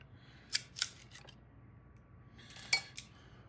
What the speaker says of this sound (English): So we're first going to clip off this edge.